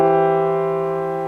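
A major triad is struck once and sustains cleanly, a bright, steady chord decaying slowly over more than a second, alone without speech.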